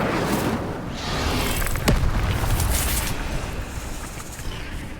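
Incendio fire spell cast in the video game Hogwarts Legacy, a loud continuous fiery rush with a sharp burst near the middle, sustained dense roar throughout.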